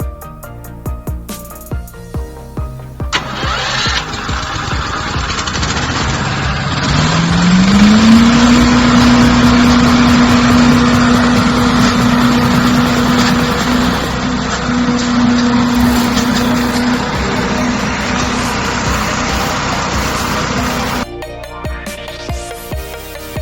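A leaf vacuum machine's engine starts and then runs loudly and steadily, with a rising pitch as it climbs to a constant drone that holds for most of the stretch before cutting off near the end.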